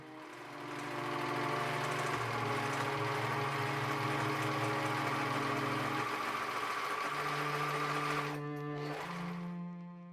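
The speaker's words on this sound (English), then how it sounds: "I decided to do a roll hem on my serger for all the ruffs." A serger runs continuously, stitching a rolled hem along fabric ruffs for a 1920s costume, with a smooth mechanical whir that holds steady for several seconds before easing off.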